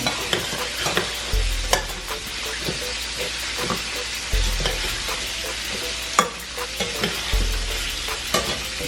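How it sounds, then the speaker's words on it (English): Rice toasting in butter and oil for Mexican rice sizzles steadily in a pan, with scraping stirs and soft low thumps recurring every few seconds. "We kind of cook the rice a little bit in the butter and the oil."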